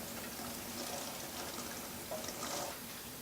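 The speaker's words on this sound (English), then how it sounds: "we're going to add 2 bags of cranberries, which I've already pre-washed and drained" Pre-washed, drained cranberries from two bags tipped into a pot of boiling water, giving a faint watery splashing and bubbling with a couple of slightly louder sloshes near the end, no voices.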